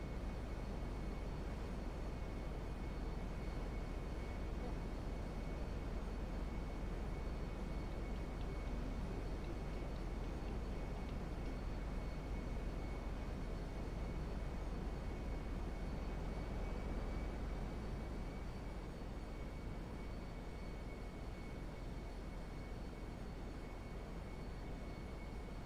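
A steady, low airliner cabin engine drone fills a Spirit Airlines flight to Los Santos in a GTA roleplay game, continuous and even throughout with no voices.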